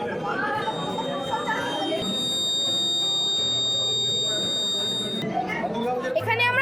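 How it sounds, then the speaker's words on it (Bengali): A rain-detecting landslide warning alarm at a school science exhibition sounds a steady, high electronic buzzer tone for about three seconds, heard amid people talking and crowd chatter. "এইটি বৃষ্টি থেকে ডিটেক্ট করে অ্যালার্ম বাজায়"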